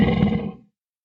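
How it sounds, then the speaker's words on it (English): A lion's deep rumbling roar from the African savanna, one loud close growling burst that fades out after about half a second, alone with no talk. "Raaif the lion had a rumbling roar that was feared by all the animals in the African savanna"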